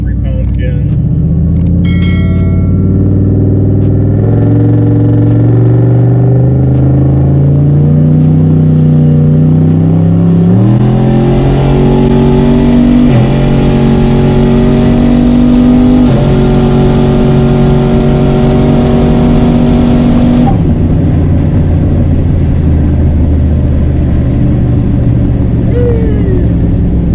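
A turbocharged GMC Sierra 6.0 AWD pickup engine revs hard and climbs in pitch through several gear changes, loud and close, then cuts off sharply near the end.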